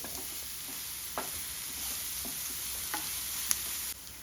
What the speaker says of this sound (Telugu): ఇవన్నీ కూడా మంచిగా బ్రౌన్ కలర్ వచ్చే వరకు ఇట్లా కలుపుతూ ఉండాలి